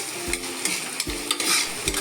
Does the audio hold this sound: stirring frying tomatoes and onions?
yes